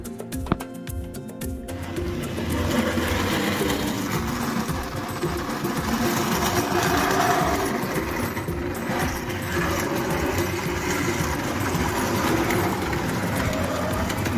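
Model train set running with heavy, unmodified carriages, giving a steady continuous rolling and motor whir that starts after a brief clattering burst and holds for the rest of the clip, with no talk.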